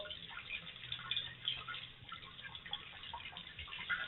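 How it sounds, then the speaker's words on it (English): Water poured from a container over braided hair to rinse soap from the scalp, a steady close splashing and trickling stream with small drips that runs for the whole stretch. "all you want to do is hold it straight and just pour water"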